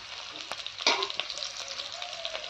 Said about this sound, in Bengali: আর এখন ওইদিকে করছি মাছের ভাজা।